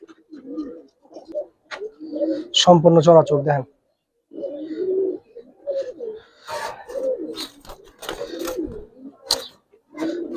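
Giribaz highflyer pigeons coo softly and repeatedly at close range, mixed with frequent nearby speech between the coos.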